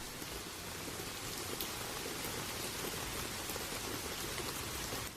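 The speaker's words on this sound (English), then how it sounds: "I love listening to the raindrops and jumping in puddles after it rains." Steady rain falls with dense raindrops pattering on surfaces, an even hiss of moderate level that continues unbroken for about five seconds, with no voices.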